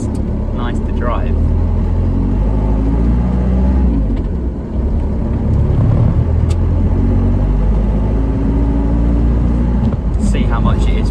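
A slow diesel van cruises along a road, its low engine rumble and road noise steady and close from inside the cab, with occasional light knocks and a voice talking over it.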